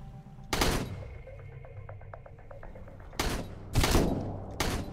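Single sharp M16 rifle shots in the survival game Sunkenland, four loud cracks spaced irregularly with echoing tails, separated by quieter background ambience.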